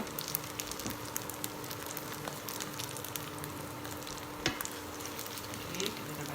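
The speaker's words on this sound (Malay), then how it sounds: "Okay, kita goreng sampai dia garing." Kuey teow noodles frying crisp in a hot pan, a steady close sizzle and crackle with occasional stirring scrapes, running on its own without talk.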